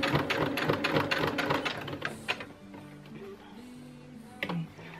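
A sewing machine runs with a long stitch length through fairly thick dress fabric, giving a busy mechanical rattle of ticks and clicks that thins out midway into a quieter hum.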